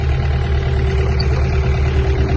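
A Mitsubishi MT-26 Japanese mini tractor engine idles steadily up close, a constant low rumble with an even mechanical hum and no speech over it.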